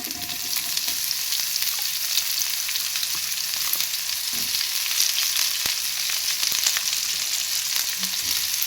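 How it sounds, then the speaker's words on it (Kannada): Sliced onions frying in a pan give a steady, dense broadband sizzle with crackling and occasional soft stirring clatter, close and continuous with no talking. "ಉಳ್ಳಾಗಡ್ಡೆನ ಚಲೋತ್ನಾಗ ಫ್ರೈ ಮಾಡ್ಕೊಳ್ಳೋಣ ರೀ."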